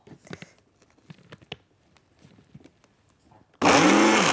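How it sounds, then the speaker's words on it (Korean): An electric blender grinds apple, onion, garlic and kelp broth into a fine purée. Light clinks and handling noises come first, then the motor roars in suddenly and loudly and keeps whirring steadily. "믹서에 가는 건데"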